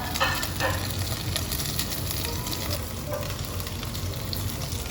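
Olive oil sizzles loudly and steadily in a pot with flour, the start of a home-cooked Turkish dry bean stew. A continuous hissing crackle fills the whole stretch at close range, with no talk.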